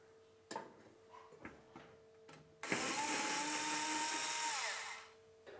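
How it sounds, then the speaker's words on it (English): A cordless power driver whirs steadily for a couple of seconds while undoing screws from a Neff fan oven element, after a few soft clicks and taps. "I'll start by removing these screws."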